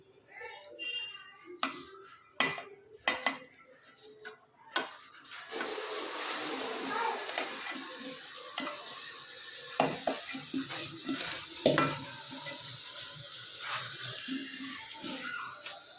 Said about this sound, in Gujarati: હવે એના અંદર આપણે થોડું બેસન નાખી અને મિક્સ કરતા જઈશું.